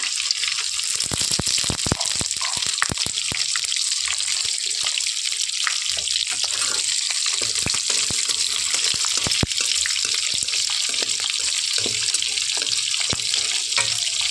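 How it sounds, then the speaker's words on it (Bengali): Dried red chilies and five-spice seeds tempering in hot oil for a Bengali mixed-vegetable dish, a steady loud crackling sizzle with scattered pops and scraping stirs throughout, no talking. "বড় বড় 4টে লঙ্কা নিয়ে নিয়েছি আমি, শুকনো লঙ্কা ফোড়ন দেবো, 5 ফোড়ন দেবো"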